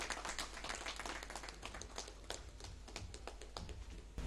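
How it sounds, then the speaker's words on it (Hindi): Sustained clapping from a large audience welcoming a minister on stage at a Khelo India Winter Games event in Gulmarg, steady and dense throughout with no voices over it. "जोरदार तालियों से उनका इस्तकबाल करें"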